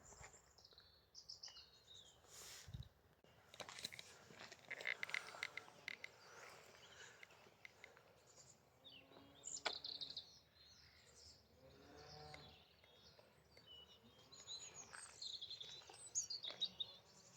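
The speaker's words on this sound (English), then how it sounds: "Nice to hear the birds singing again and seeing the blue sky." Birds chirp and sing outdoors on a sunny day beside an old country church, a faint, continuous mix of distant calls with some insect-like buzzing.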